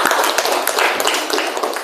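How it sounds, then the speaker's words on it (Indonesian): Classmates applauding students in a classroom, a steady close wash of many overlapping hand claps for about two seconds with no voices on top. "Pak Guru harapan untuk memberikan tepuk tangan untuk teman-temannya yang telah memberikan pendapat."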